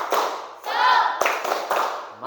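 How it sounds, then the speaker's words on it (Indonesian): Pupils in a class beat out a rhythmic spirit clap in sharp, unison bursts, and between the bursts they chant along loudly. "Oke, ayo kita tepuk semangat."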